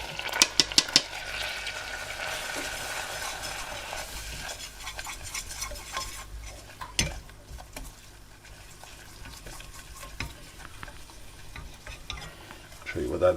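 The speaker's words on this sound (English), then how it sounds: "with our butter bubbling now, we want to add our 25 grams of flour. Once we've done that, we want to be whisking." A whisk works flour into bubbling butter in a pan to make a roux for a chicken and mushroom pie. Rapid metallic clicks and scraping sit over a soft, steady sizzle, with sharper knocks early on.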